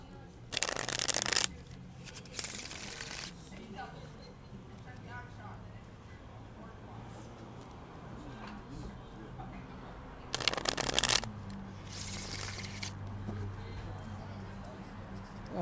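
Tarot cards are shuffled in brief, crisp riffling bursts, up close, under a voice speaking quietly, with long gaps of low talk between the shuffles.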